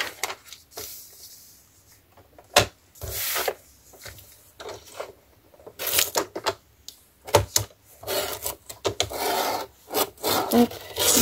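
Brown paper being cut slowly with a blade, giving a series of short, close scraping and rasping strokes with brief pauses between them, irregular in rhythm and fairly loud, with no talking.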